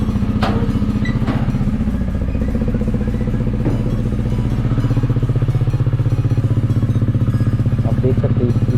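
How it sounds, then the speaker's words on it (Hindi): A KTM motorcycle engine idles steadily after starting, warming up with a loud, continuous throbbing rumble and a few brief clatters and thumps over the top. "तो एक बार गाड़ी को स्टार्ट करके अच्छे से गर्म कर लेते हैं।"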